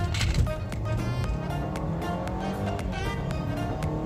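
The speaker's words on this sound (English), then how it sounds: "we're going to go ahead and give this guy a 0 to 60 pull" Volvo S90 T5 Momentum large sedan pulling hard from a red light toward 60 mph, a steady loud engine drone heard from inside the cabin, with a few faint clicks over the continuous roar.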